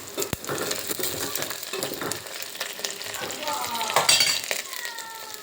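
Tempering spices fry in hot oil for tomato pepper rasam, giving a steady crackle and sizzle with occasional clinks of a utensil, a faint voice in the background and a few whistling tones near the end.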